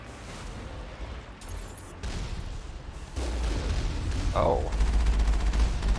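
Turret fire in the Mass Effect video game rumbles in a dense, booming volley that grows heavier toward the end, while a player voices a brief exclamation over it.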